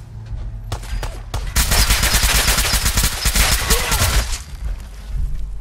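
Rifle fire in Fallout 4 crackles in a loud, fast burst of rapid shots lasting several seconds, preceded by a few single reports and trailing off into ambient game noise.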